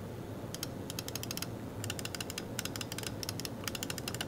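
Rapid bursts of crisp clicks from a Razer Viper Mini ultralight gaming mouse, several quick clusters spread across a few seconds, close and clear over a steady low background hum.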